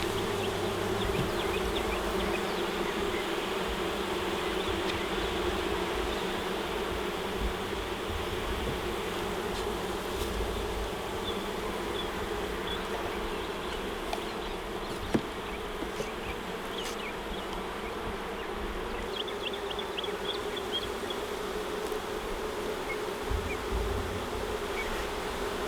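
Honey bees buzz around an open beehive in a Southeast Georgia apiary, a dense continuous hum from many insects close by, with occasional individual bees flying near and a faint tap partway through.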